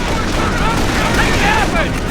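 Gunfire in the World War II strategy game Company of Heroes, a dense, continuous clatter of shots and battle noise with shouted voices over it throughout.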